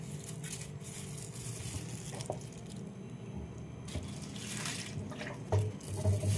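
Water poured onto potted plants, a soft continuous splashing and trickling close by, fairly quiet, with a few louder splashes near the end.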